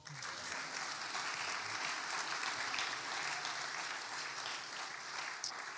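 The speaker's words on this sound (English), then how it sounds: "Now you can clap." Applause from a church congregation at a Sunday service, marking a child's public dedication: a steady wash of many hands clapping at a distance, faint and even throughout.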